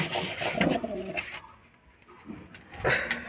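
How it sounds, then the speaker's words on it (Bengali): A domestic pigeon held in the hands before release gives soft, close cooing calls, with a pause in the middle and faint handling rustle. "এই দেখো এই পায়রাটাকে নিয়ে ওড়াবো।"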